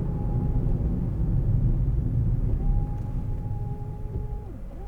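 Small electric windscreen washer pump on a 2015 Hyundai i10 1.0 SE, running dry with no fluid, giving a thin steady whine inside the cabin under a loud road rumble.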